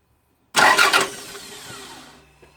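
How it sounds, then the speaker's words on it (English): A Toyota MR2 engine cranks with a sharp loud onset that settles into a fading whir and rumble over about two seconds, close by and with no voices. "So when I crank the engine, we get a reading"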